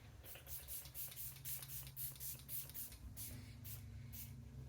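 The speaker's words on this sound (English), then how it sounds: "let's finish off with some setting spray. We have the Tarte Shape Tape Stay Spray." Tarte Shape Tape Stay Spray setting spray misted in a quick series of short, soft hissing spritzes, evenly spaced and close, with no talking over them.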